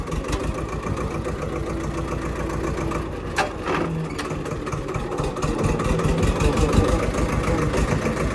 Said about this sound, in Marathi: पण ट्रॅक्टर घेऊन जाऊ.